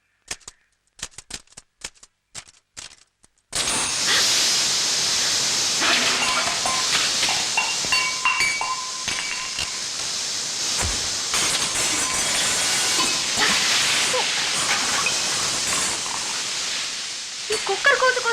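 A pressure cooker vents steam in a loud, steady hiss that carries on for about fifteen seconds, following a few sharp clattering knocks at the start.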